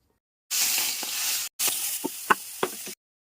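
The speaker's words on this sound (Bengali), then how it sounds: "এবার এই মাছটাকে আমি ভেজে নেব" Katla fish pieces, rubbed with salt and turmeric, sizzle loudly in hot oil in a pan. The hissing breaks off briefly, then resumes, with several sharp knocks of utensils against the pan over the frying.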